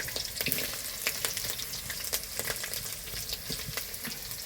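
Shrimp and chopped onion sizzle in hot oil, a steady crackling fry with scattered sharp spits and pops, moderately close and continuous with no talking.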